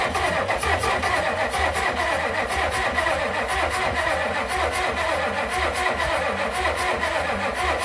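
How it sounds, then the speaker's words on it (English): An old diesel Ford engine that sat for 35 years is cranked over steadily by the starter to bleed fuel through the injectors, making a loud, continuous, rhythmic churning that does not catch. "I'm going to whirl it over. We're going to go until each one is wet with fuel"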